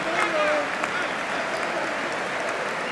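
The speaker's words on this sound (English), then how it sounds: "A lot of applause." Stadium crowd at De Kuip applauding for Feyenoord, a dense, continuous wash of clapping with a murmur of voices underneath, steady and loud throughout.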